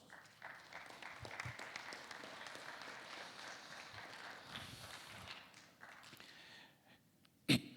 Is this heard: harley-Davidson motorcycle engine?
no